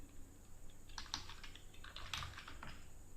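A password is typed on a computer keyboard, giving a quiet, close run of scattered key clicks, with two slightly sharper taps standing out over a low steady room hum.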